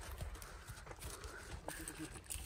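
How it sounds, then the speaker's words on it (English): A young female donkey walks close by, her hooves making soft, irregular clip-clop thuds over a muddy, faint background. "This is the little donkey that they got."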